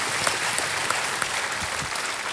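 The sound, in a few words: studio audience applause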